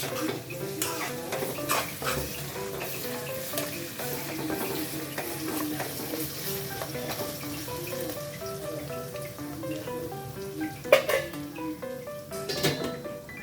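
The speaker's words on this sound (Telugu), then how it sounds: "పచ్చివాసన పోయేదాకా బాగా వేయించుకోవాలి" Ginger-garlic paste frying with chopped onion in a pan for an Andhra-style prawn fry, stirred steadily with utensil scrapes and soft sizzling, a sharper clatter near the end; no talking.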